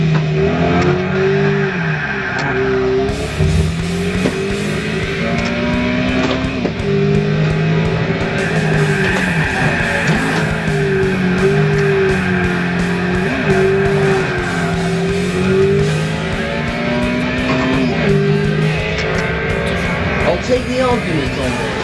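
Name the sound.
Subaru Impreza STI hatchback driving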